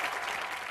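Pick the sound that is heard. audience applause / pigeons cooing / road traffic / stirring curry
audience applause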